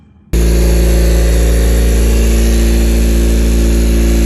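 A 2022 Honda Civic hatchback with the L15B7 engine and a new downpipe cold-starts after a brief quiet moment, then holds a loud, steady, close-up idle drone with no one talking.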